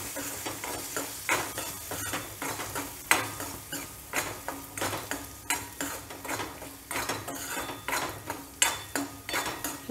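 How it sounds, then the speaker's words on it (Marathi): Masala mixture with salt stirred and sautéed in hot oil for a Marathi pavta (lima bean) rassa bhaji, with steady sizzling and repeated scraping, clinking strokes of a spoon against the pan throughout. "हे सर्व मिश्रण छान हलवून घ्यायचं आहे, तेलामध्ये छान परतून घ्यायचं आहे हे सर्व मिश्रण।"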